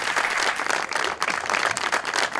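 A studio audience breaks into sustained applause on a Hindi-language talk show, a dense, steady wash of clapping that holds at even volume for the whole stretch with no voices over it.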